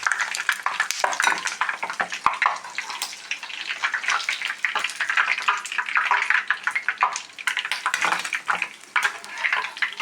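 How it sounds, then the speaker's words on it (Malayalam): An egg frying in coconut oil in a pan on the stove, with a steady close sizzle and spatter and some scraping or stirring running throughout, with no voices. "ഇത് ഫ്രൈ ആവട്ടെ വെച്ച എഗ്ഗ് നന്നായിട്ട് ഫ്രൈ ആയി"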